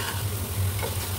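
Fried bitter gourd chips being stirred in a hot pan, with a steady oily sizzle and soft scraping throughout, close and unbroken, no voices.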